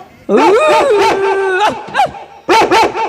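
A dog barks and yips loudly in a quick series of sharp calls, with a brief pause before a few more barks near the end.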